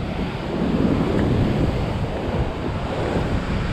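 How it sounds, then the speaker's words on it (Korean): Sea waves push in at a fishing shore with a constant, heavy wash of surf and gusting wind noise on the microphone, loud and close with no voices. "파도가 밀어줄 때는 파도가 이렇게 나가잖아"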